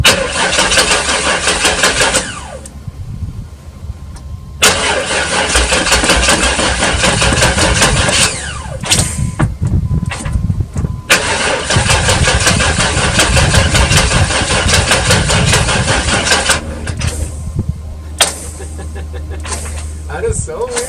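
A 1996 Chevy Tahoe engine cranks repeatedly in loud whirring bursts separated by pauses, then catches and runs roughly on one cylinder with an uneven, lumpy idle, heard up close while people talk over it.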